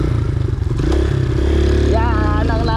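A motorcycle climbing a steep mountain trail to Sitio Dueg in Tarlac, its engine loud and close with a rising rev toward the end, rattles and scrapes over rough ground, and voices talking throughout.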